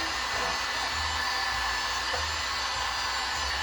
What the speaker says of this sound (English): You always have that heat gun moving somewhere, doing something.